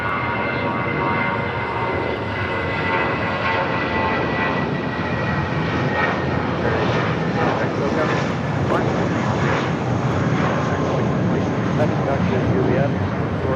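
An airliner takes off from runway 25 right at LAX, a steady, loud engine roar building gradually with broadband rumble, while radio chatter sounds faintly underneath.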